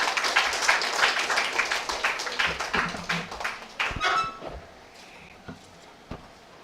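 Female students at Thiruvalluvar College in Papanasam give loud, dense applause as a welcome for the college principal. The clapping is close and sustained, then thins out and stops, leaving a few scattered claps.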